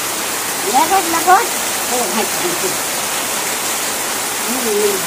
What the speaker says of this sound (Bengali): কি পরিমাণের বৃষ্টি, আল্লাহ এত বৃষ্টি হচ্ছে